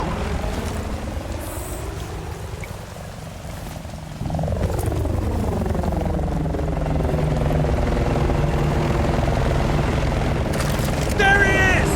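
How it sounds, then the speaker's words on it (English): A helicopter in the video game Battlefield Bad Company 2 holds a loud, steady rotor drone with a rising and falling pitch, while voices talk over it and battle noise mixes in. "that chopper's gotta be for him"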